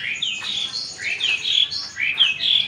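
Several caged songbirds, including shrikes and canaries, chirp and tweet in a steady overlapping chorus of bright, high calls and whistles, close and fairly loud with no talking.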